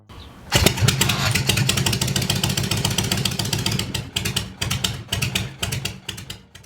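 A Harley-Davidson V-twin motorcycle engine fires up and rumbles loudly and close, with a lumpy, pulsing idle and a few throttle blips.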